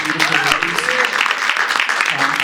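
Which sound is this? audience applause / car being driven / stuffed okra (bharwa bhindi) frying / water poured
audience applause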